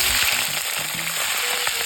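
Paros clams fry in a pan for sisig, a steady loud hissing sizzle close up with brief pops and spatters, no talking.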